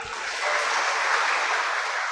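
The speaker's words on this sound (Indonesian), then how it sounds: "Tepuk tangan juga untuk panitia." Continuous crowd applause fills a church during a First Communion Mass, a thick, even patter of many hands that lifts slightly after a soft start.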